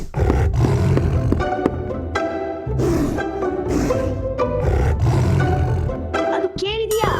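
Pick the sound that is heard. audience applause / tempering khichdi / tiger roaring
tiger roaring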